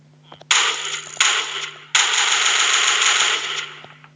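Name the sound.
M249 machine gun firing in Minecraft PE gun mod, video game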